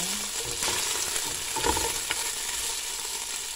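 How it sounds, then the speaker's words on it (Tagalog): Onion sautés in a hot pan, giving a continuous close sizzle with a few faint stirring scrapes; no voices. "Gisa-gisahin pa po natin siya ng kaunti"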